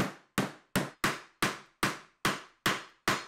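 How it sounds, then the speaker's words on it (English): A wooden mallet whacks a tight angled wooden leg and apron rail joint together, nine sharp evenly spaced knocks in quick succession, close and crisp, each one dying away fast. "I did manage to get them properly seated with a few whacks from the mallet"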